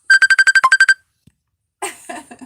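A mobile phone ringtone for an incoming call sounds close and loud as a quick run of about ten bright electronic tones. A short pause follows, then a burst of other noisy sound.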